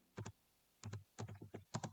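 Clusters of quick computer keyboard taps, near and crisp, coming in short bursts separated by brief pauses.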